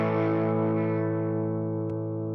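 An electric guitar chord plays clean through a Fender Tone Master Pro and Deluxe amp, ringing out and slowly decaying over about two seconds, with a faint click near the end.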